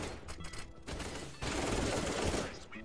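Gunfire in the video game CS:GO on the Vertigo map, a rapid burst of shots followed by a longer, louder, sustained fusillade, with no talk over it.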